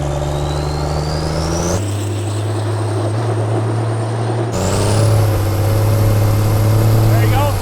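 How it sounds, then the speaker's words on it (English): A compound-turbo 12V Cummins diesel in a Model A dually rat rod pulls hard under throttle with a deep, steady engine drone. A rising turbo whine climbs over it, with a sudden step up in pitch as the power increases. "And now give it some gas and it'll roll full"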